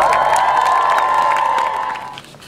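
A crowd at a cheerleading event cheers and shouts loudly in one burst that fades out toward the end.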